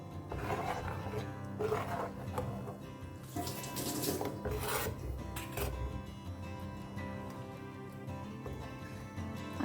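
Stirring a watery masala mixture for a Goan-style sardine curry produces sloshing, liquid swirls and light scraping against the pot, continuous and close, with no voices.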